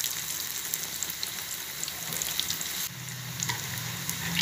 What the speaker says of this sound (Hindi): ये देखें हमारी मज़े की मसालेदार रोटी जो है वो फ्राई हो रही है।